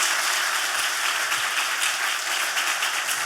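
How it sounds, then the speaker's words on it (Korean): A church congregation claps steadily for a brother who has just given his testimony, a dense, even patter of many hands sustained throughout without pause. "박수 한번 쳐주세요"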